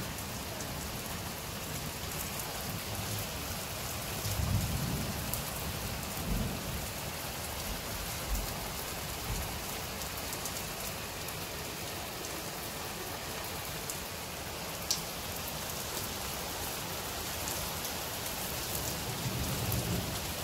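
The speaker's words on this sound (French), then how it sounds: "T'as entendu le tonnerre?" Steady rain falls on surfaces with a constant hiss, while low, distant thunder rumbles softly now and then, faint overall and with no voices.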